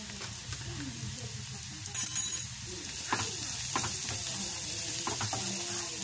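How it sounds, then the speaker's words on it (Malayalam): Onions and green chillies sautéing in a pan for Irani pola, with Kashmiri chilli powder in the mix, sizzling steadily and close with soft stirring scrapes and a brief louder burst partway through. "പച്ചമുളക് മാറുന്ന വരെ ഒന്ന് നന്നായിട്ടൊന്ന് വഴറ്റി കൊടുക്കാം."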